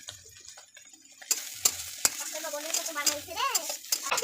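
Chow mein being stir-fried in oil in a pan, with a soft sizzle under repeated metallic clinks and scrapes of a spatula, gradually getting busier and louder.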